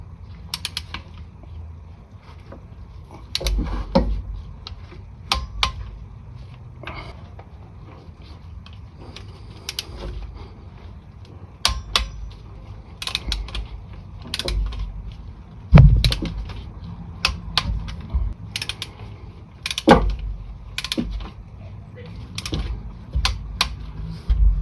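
Tightening the oil pan bolts on a 1988–1992 Toyota Corolla 4A-F with a torque wrench, heard as repeated close ratcheting creaks and sharp mechanical clicks in irregular bursts, with tool and metal handling noise between them.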